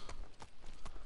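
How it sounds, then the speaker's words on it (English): Horse in Ghost of Tsushima galloping, several quick hoof clip-clops in an uneven rhythm, faint and brief. "that's the first time my horse has ever come from, like, directly in front of me."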